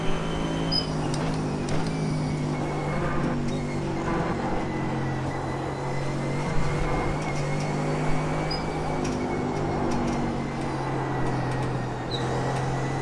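A Mercedes GT3 race car in the iRacing simulator holds a steady, buzzing engine drone through a corner, with small shifts in pitch and faint tyre and chassis noises.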